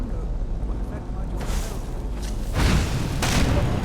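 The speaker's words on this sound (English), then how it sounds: "Explosion." Spell explosion in the fantasy role-playing game Skyrim, a loud booming burst with rumbling low end that swells at mid-clip and again near the end, over ongoing game ambience.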